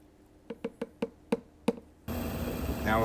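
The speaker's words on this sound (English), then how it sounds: "Now we'll add the rest of the water here." Water pours into a lawn sprayer tank with a sudden, loud, steady rushing splash, after a run of six sharp taps and knocks on the container.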